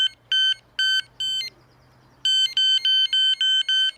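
Carp fishing bite alarm at a changed volume setting, sounding three loud electronic warbling beeps, a short pause, then six more in quick succession, close and clear with no talk.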